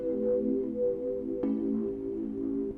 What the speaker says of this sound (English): this A dominant 7th chord right here